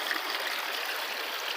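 Water rushes steadily through a high banker set up for gold prospecting, a dense, even outdoor wash of splashing flow heard close and loud without pause.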